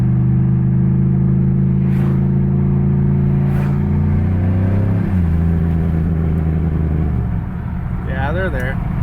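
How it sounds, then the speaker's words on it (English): A 2007 Pontiac Grand Prix GXP engine revs in second gear, a loud, steady mid-pitched drone climbing gradually before settling and shifting lower, close to the microphone. "we're gonna give a little gas in second gear"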